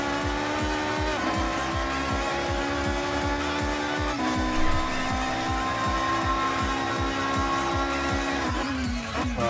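A time attack race car in the video game Forza Horizon 6 drives a lap, its engine holding a steady loud whine, climbing through gearshifts with brief tire squeal, alone without talk.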